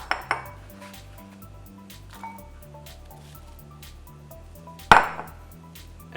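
Large kitchen bowl handled while preparing hazelnut soup, a few light clinks near the start and one sharp ceramic knock midway, close, over a quiet background tune with no talking.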